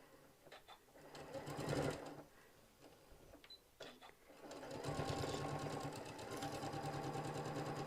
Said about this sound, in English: now I'm going to sew the bag shut